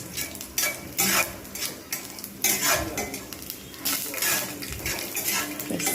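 Bread pieces frying in oil in a pan, stirred with a metal utensil that scrapes and clatters in repeated bursts over a soft sizzle, no voices.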